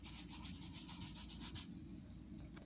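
Yellow colored pencil is used to blend on paper, making faint, quick rhythmic scratchy rubbing strokes up close that give way to a softer, steadier rub.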